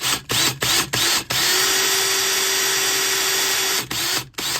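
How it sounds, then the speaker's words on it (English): A power drill with a 1/4-inch bit whirs steadily for a few seconds after several short bursts of mechanical noise, close and loud, drilling into a mounted bluegill fish. "What we have here is our drill with a 1/4-inch drill bit."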